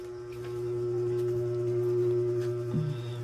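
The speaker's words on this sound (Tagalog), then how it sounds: "Kaandar yung electric fan." A steady electric fan hums with a low, constant motor drone and faint whirring, continuous throughout with a small bump near the end.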